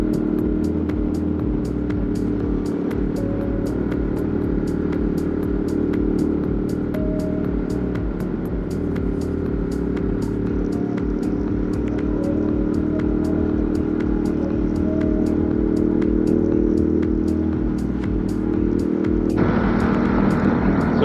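A Ducati motorcycle riding through Manhattan streets, heard as a steady, loud engine and wind roar with a constant rumble that barely changes over the ride.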